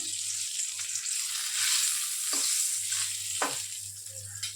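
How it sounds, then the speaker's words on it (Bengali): Two bay leaves and a dried red chili crackle in moderately hot oil, a close, continuous sizzle with a few brief pops, no voices over it. "তেলটা হালকা গরম হয়ে আসলে এর মধ্যে 2টো তেজপাতা, শুকনো লঙ্কা একটা,"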